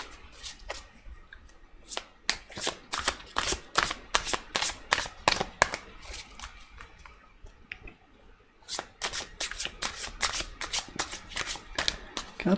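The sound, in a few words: drawing tarot cards from the deck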